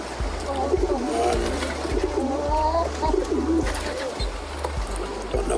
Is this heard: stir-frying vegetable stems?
no